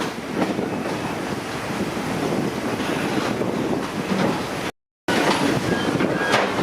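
Aboard a 1940 vintage train on a scenic railroad, a steady rumble of wheels and wind fills the ride past a track switch, with soft irregular knocks and a brief dropout near the end.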